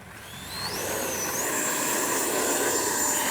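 Freewing F-22 RC jet on low power lining up on the runway, a steady electric ducted-fan whine rising in pitch over the first second, then holding a continuous, fairly loud hum with no talk.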